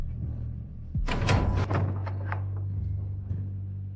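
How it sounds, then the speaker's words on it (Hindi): A door is opened with a sudden clattering thud that settles into a steady low hum, with no voices during it. "अब दरवाजा खोलो,"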